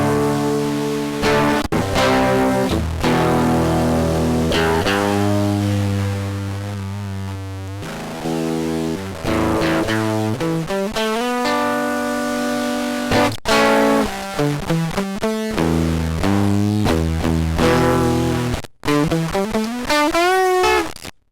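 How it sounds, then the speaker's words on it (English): Electric guitar played through a CircuitPython-powered bit-crusher distortion pedal, gritty crushed notes and strummed chords ringing one after another with sustained, buzzing tails, loud and continuous with a couple of brief dropouts. "That's the distortion."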